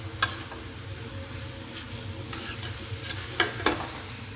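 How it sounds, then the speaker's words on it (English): Spinach wilting into ground beef frying in a pan gives a steady close sizzle, broken by a few sharp scraping stirs of the utensil. "We want our spinach to actually wilt into the ground beef."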